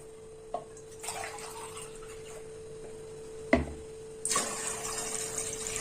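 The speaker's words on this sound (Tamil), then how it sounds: "இதுக்கு ரெண்டு படி தண்ணி ஊற்றணும்" Water is poured into a pot of rice for Tamil fenugreek rice, with a few clinks and splashes and a louder gushing pour toward the end over a faint steady background hum.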